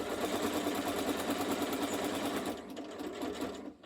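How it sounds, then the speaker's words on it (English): A sewing machine stitches binding onto a quilt, running steadily with a fast, even mechanical whir close by, then easing off slightly near the end. No one speaks. "We sew along to the edge"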